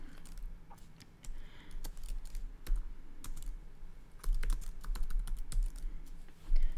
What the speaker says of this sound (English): I can start now to type what it is that I want it to say.